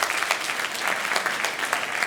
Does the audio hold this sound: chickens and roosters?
no